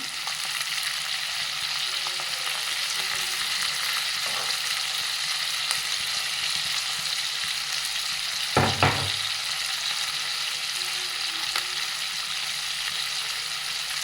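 A single tomato sizzles and fries steadily in oil in a pan for tomato biryani, a continuous hissing crackle with a brief louder stir or clatter near the end, no talking.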